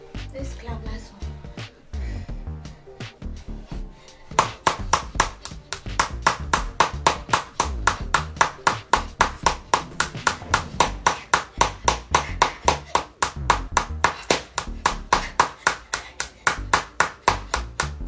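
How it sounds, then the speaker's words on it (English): Hands clap during a workout exercise in a fast, steady rhythm of many sharp, close claps that grow louder and denser after a slower start, with some voice heard early on. "Let's clap last one."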